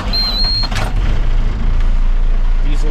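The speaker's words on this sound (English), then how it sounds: "Diesel starts up just like that." A diesel truck engine rumbles low and steady after a brief high-pitched beep and clatter from electric brakes and a beeper at the start.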